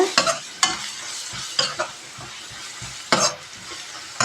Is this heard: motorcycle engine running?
no